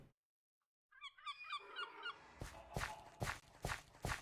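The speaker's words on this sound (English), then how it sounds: "Oh, it's a seagull." Seagull cries in the Minecraft video game: a series of sharp, honking squawks repeating in a loose rhythm over a few seconds, fairly close and clear, with no talking.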